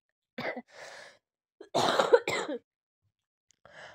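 A woman coughs in several separate bursts, loud and close by, with short silent gaps between them and one more faint cough near the end; she is ill from a cold spell and has a sore chest.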